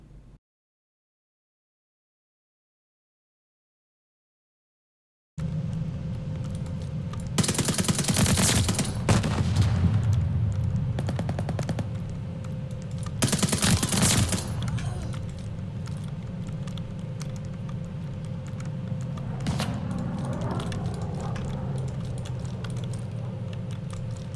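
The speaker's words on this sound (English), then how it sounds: "Someone's trying to shoot me." MP-40 submachine gun fire in Call of Duty: Vanguard multiplayer: loud automatic bursts over a constant rumbling game background, with the clip opening in near silence and two dense sustained volleys early on.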